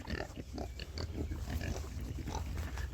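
Several pigs grunt and snuffle while foraging in a silvopasture paddock, a busy overlapping chorus of low grunts close by at moderate volume, without talk.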